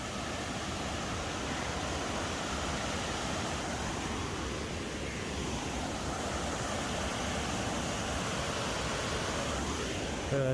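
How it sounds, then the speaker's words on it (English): A video game waterfall gives a steady, even rush of falling water, constant and fairly quiet, close by with no voices. "It's a little noisy right next to the waterfall"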